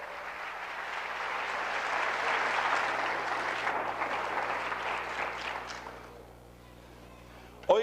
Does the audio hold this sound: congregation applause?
yes